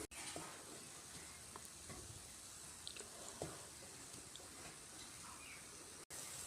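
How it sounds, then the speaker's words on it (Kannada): Grated coconut frying in a pan for banana cutlets gives a faint, steady sizzle, broken by light scraping and stirring clicks. "ಫ್ರೈ ಮಾಡ್ಕೊಳ್ಳೋಣ"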